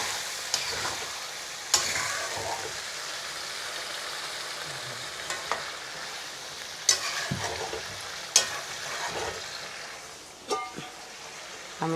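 Fried duck meat in a pot with hot water added, stirred with a utensil that scrapes and clinks sporadically against the pot over a soft, steady bubbling hiss.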